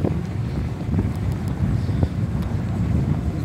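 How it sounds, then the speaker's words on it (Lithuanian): A small sandstorm of wind-blown sand roars steadily and loudly across the microphone, a dense continuous rush with gusty buffeting and no talk. "Čia toks smėlio vėjukas."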